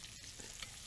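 Fish frying in a pan, a steady close sizzle with faint crackles and stirring noises throughout, no voices over it.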